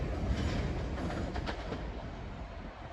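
British Rail Class 37 diesel locomotive hauling a train through Selhurst station toward Brighton, a continuous rumbling roll of wheels with faint rhythmic clatter, easing slightly as it passes.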